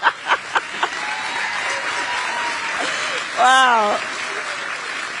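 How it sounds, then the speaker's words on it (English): Audience applause at a campaign event in Malvern, Pennsylvania: a few sharp claps and an exclamation open into a steady, sustained wash of clapping from a crowd, with a voice briefly speaking over it. "Can you believe that's an applause line?"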